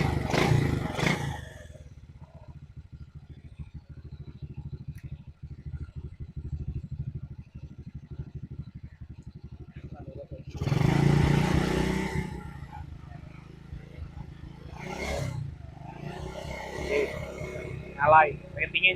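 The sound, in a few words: classic motorcycle engine running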